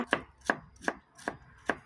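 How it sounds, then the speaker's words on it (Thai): A knife chops a carrot into small dice on a board: five sharp, close strikes at an even, unhurried rhythm, with nothing else heard. "หั่นเอ่อแครอทนะคะ แครอทนี่เวลาเราหั่นนี่ก็จะเป็นสี่เหลี่ยมเต๋าเล็ก ๆนะคะ"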